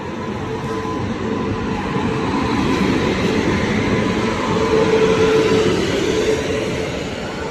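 The Mahal superfast express train from Madurai to Tambaram runs at speed, heard from inside as a loud, steady rumbling roar with rattling wheel noise throughout.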